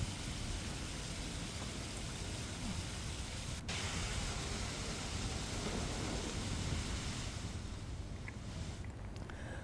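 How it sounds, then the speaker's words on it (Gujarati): Heavy rain pours steadily in a dense, hissing wash, with gusting wind roaring through it the whole time. "પવન ફૂંકાવા સાથે ધોધમાર વરસાદ થયો"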